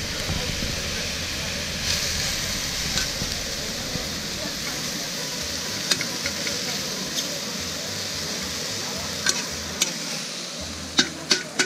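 Sliced onions and red peppers sizzle steadily in a hot pan at an outdoor market, with occasional sharp taps and clinks and some voices faintly in the background.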